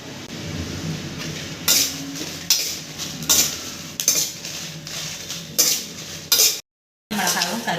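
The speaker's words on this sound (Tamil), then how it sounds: "மிளகாவும் கருவேப்பிலையும் நல்லா வறுந்துருச்சு." Dried red chillies and curry leaves roast in a pan for black urad dal idli podi, with loud rhythmic spatula scrapes and clinks against the metal over a faint sizzle, then a brief silent gap.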